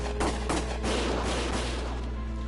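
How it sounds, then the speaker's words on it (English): Rapid bursts of gunfire in the video game Valkyria Chronicles Remastered pop repeatedly and unevenly, several close shots followed by scattered fainter ones, all over a constant low background drone. "Dudes are literally shooting at civilians."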